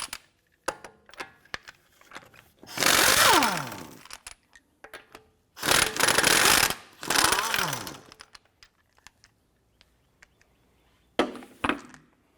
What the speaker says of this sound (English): Using a 19mm socket, go ahead and remove your lug nuts.